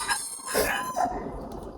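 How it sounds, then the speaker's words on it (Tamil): A chicken nearby makes a few short squawking clucks in bursts during home cooking, moderately loud and close, with no talking. "இங்கே சமைச்சாலே இந்த கோழியோட சவுண்டு தான் கூட இருக்கும், அதை கண்டுக்காதீங்க"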